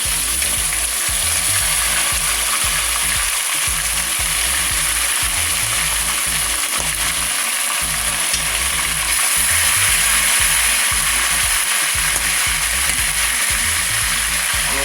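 Dark brown sugar sizzles steadily as it is added to a hot pot for a spicy Haitian chicken and cashew sauce. The hiss is loud and constant, with faint stirring or scraping underneath.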